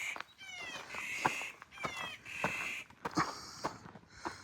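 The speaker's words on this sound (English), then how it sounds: "These are some loud birds" Loud birds call repeatedly outdoors in the Sierra Nevada mountains, with harsh, crow-like squawks and chattering bursts in quick succession, close and prominent over a light breeze.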